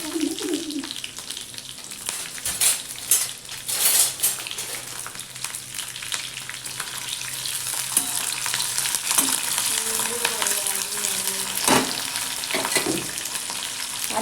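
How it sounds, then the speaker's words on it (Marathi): Sliced green chillies tossed into crackling cumin seeds in a hot pan sizzle loudly and steadily, with brief bursts of stirring and spatula scrapes, and no talking. "जिरं तडतडलं की ही मिरची टाकायची त्याच्यात"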